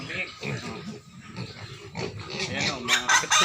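Pigs grunting in a muddy farm pen, repeated low grunts mixed with squeals close by, heard under someone talking throughout.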